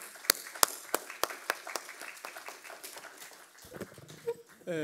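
A church congregation claps during a Korean Sunday worship service in Hawaii, a few sharp separate claps at first, then scattered clapping that fades as a voice begins speaking near the end.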